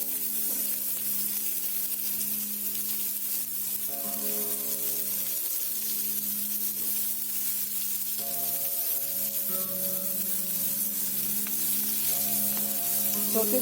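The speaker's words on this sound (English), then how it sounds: "Saute the same till it is translucent" Onion sautéing in a pan for a potato curry, giving a steady, even sizzle throughout with no voices.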